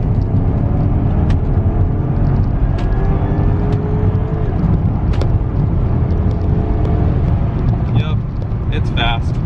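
A 700whp Porsche Panamera Turbo accelerating at full throttle, its engine and road noise forming a loud continuous rumble and whir heard from inside the car, with people talking over it.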